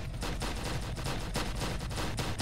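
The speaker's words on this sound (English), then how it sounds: "I can hear just gunshots or anything." Rapid bursts of gunfire ring out in a Roblox video game, repeated sharp cracks in quick succession that sound like automatic weapons firing without pause, loud and close, with no talk over them.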